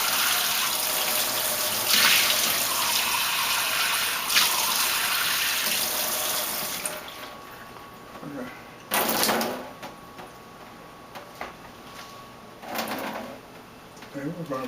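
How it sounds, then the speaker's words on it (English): Water poured into a bowl while making challah dough: a steady hissing pour runs under a speaking voice, with a few louder splashy surges and clinks near the end. "we're going to pour the water in here"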